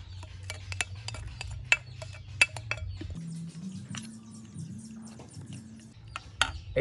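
Garlic, shallot and carrot are stirred into water for Cambodian crispy rice crêpe batter, giving light clinks of a utensil against a bowl and soft sloshing patter, close and fairly quiet.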